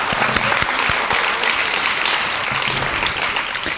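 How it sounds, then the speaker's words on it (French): Dense, loud applause from a gala audience fills the whole stretch, a steady wash of many hands clapping at once with no voices breaking through. "ils ont besoin d'une bonne main d'applaudissements"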